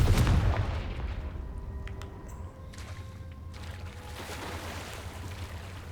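A Confringo fire spell blast in Hogwarts Legacy, a booming burst at the start that fades into a low rumbling wash with faint tonal game sounds, no talking over it.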